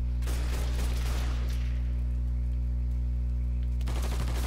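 Gunfire in Mafia III, with a rattling burst at the start, sparse shots, then another burst at the end, over a loud steady low hum, with no voices.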